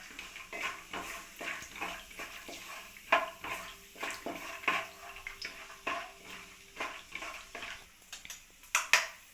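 Peanuts sizzle and crackle in hot oil for shavige uppittu, a steady frying hiss broken by frequent clinks and scrapes of stirring, close and moderately loud with no talking.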